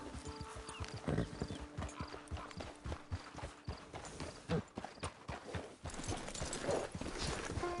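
Horse hooves clip-clop at a steady walking rhythm in Red Dead Redemption 2, close and clear, with an occasional snort or whinny and no talk over it.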